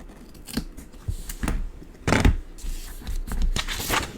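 Scissors cutting halfway across paper for a junk journal album pocket: a series of close, crisp snips and rasping slices at uneven intervals, one heavier cut near the middle, with no talk.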